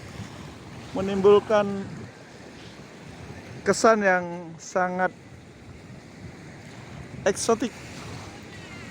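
Surf at Marosi Beach in Laboya, West Sumba, rolls in as a constant, broad wash of waves under someone speaking intermittently.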